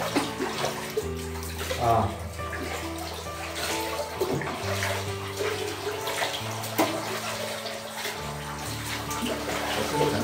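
Hot water splashes and runs continuously into a small basin for a bath, a steady close wash of water with brief vocal sounds over it.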